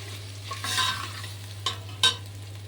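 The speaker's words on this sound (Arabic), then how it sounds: "واقلبهم كده كويس كده مع بعض. انا عاوزه الرز يسخن." Rice being stirred in a pan to heat it gives a few scraping, rustling strokes against the pan, with sharper bursts near the end and no voices.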